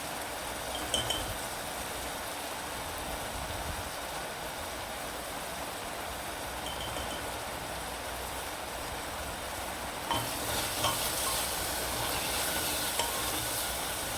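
Salt, turmeric, coriander-cumin powder and red chilli powder sizzle and fry in hot oil in a pan for a green pigeon pea curry, a steady close crackle throughout with occasional stirring scrapes and a brighter burst near the end.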